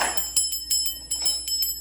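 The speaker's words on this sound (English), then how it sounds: "Clearing the energy, clearing the air with the bell" A small bell is rung to clear the air, giving a series of bright, clear rings in an irregular rhythm. Each strike rings on and fades between hits, close and fairly loud with no talk.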